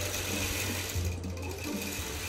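Sewing machine quilting Gotham-pattern quilt fabric, a steady continuous motor hum with rapid needle chatter running throughout at close range, with no talk over it.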